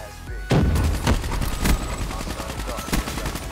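Rapid AK rifle fire in a first-person shooter game, a string of loud sharp shots in quick bursts beginning half a second in and continuing to the end.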